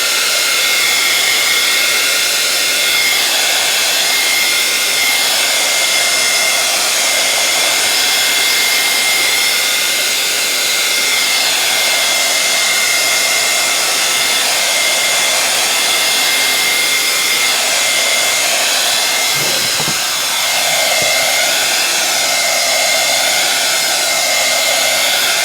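A heat tool blows hot air steadily over mixed media animal portrait artwork, a continuous loud whooshing roar that holds for the whole stretch, with only brief shifts as the tool moves.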